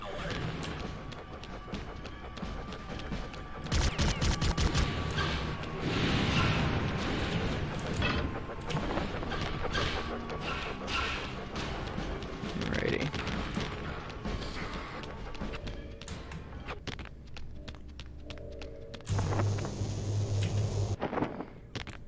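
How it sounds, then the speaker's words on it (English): Standard sniper rifle rounds fire repeatedly in the video game MDK, sharp isolated cracks spaced irregularly across a quiet stretch with a low hum beneath and occasional heavier bursts. "So another section where we have to use just standard sniper bullets. Missed a lot of those shots."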